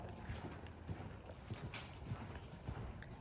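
A ridden horse clip-clops at a steady, collected, fairly slow gait, the hoofbeats coming in an even repeating rhythm, close and moderately loud over a constant rumbling background.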